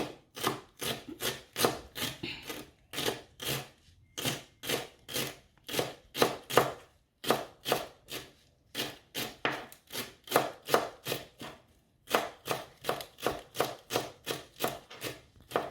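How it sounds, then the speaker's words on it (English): Rapid, steady knife chops on a cutting board as a cabbage ingredient is minced finely, loud and close, in quick bursts separated by brief pauses, with no talking. "But chop it up really fine."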